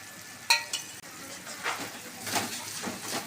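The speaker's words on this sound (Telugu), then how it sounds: "ఇప్పుడు ధనియాల పొడి వేసుకొని బాగా కలుపుకుందాము." Amaranth greens fry in a pan as coriander powder is stirred in: a steady soft sizzle with a sharp utensil tap near the start, then repeated scraping stirs close by, and no voices.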